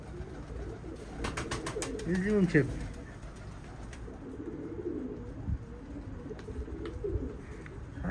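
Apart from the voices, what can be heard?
pigeons cooing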